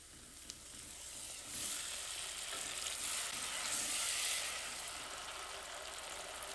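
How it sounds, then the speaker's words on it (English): Steady, bright sizzling of onion frying in hot oil, close and continuous with a slight swell in the middle and no talking. "once we've got our onion frying"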